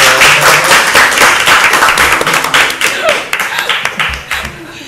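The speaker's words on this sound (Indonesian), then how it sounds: "Tepuk tangan." Applause and hand clapping from an audience at an Indonesian Islamic boarding school talk show, a dense burst of claps that thins into scattered individual claps near the end.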